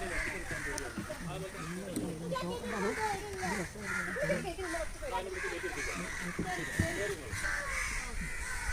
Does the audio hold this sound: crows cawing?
yes